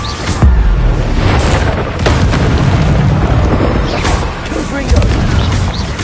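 The Incendio fire spell in Hogwarts Legacy lets loose a few heavy booms and whooshing bursts amid loud game noise, with a voice.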